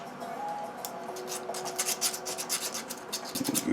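A small brush scrubs a metal part during the rebuild of a Graphic Whizard Reiner machine, producing a close, dry rasping and scratching with quick uneven strokes that grow busier toward the end.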